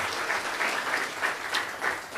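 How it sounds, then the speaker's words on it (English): A round of applause fills Rehoboth Church during a faith-based seminar, steady crowd clapping with a regular pulsing swell, moderately near. "let's give him a round of applause here at Rehoboth Church as well, too."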